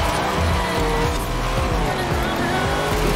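Race cars in Forza Horizon 4 roaring past, layered engine drones and tire squeal surging around a driven car, loud and continuous with a voice talking over the engines.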